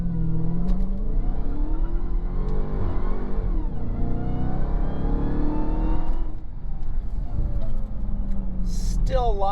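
A supercharged 797 hp Dodge Charger Hellcat on street tires launches and accelerates hard with wheel spin, its engine revving up loudly through rising sweeps, dipping at a gear change, then climbing again, heard from inside the car.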